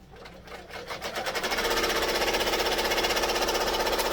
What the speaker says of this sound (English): what it's going to do is your placement stitches for the bottom piece of faux leather that we're going to put down